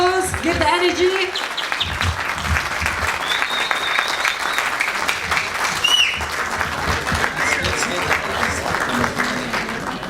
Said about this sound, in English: A round of applause, give the energy.